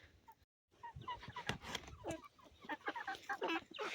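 Broiler chickens kept outdoors in winter snow cluck and chatter close by in short, irregular bursts, with some faint background noise.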